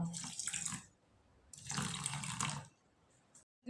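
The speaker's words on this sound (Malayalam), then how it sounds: "ഇനി നമുക്ക് നല്ല തണുത്ത വെള്ളം ഇതിക്ക് ഒഴിച്ചു കൊടുക്കാം" Cold water pours from close by into a bottle in two separate bursts, with a pause between them, gurgling as it fills.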